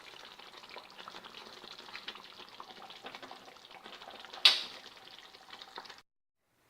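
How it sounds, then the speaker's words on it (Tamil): Curry leaves crackle and sizzle in hot oil for a tempering over eggplant kuzhambu, a faint steady frying hiss with one sharp pop just before it cuts to silence. "தாளித்து ஊற்றிடலாம்."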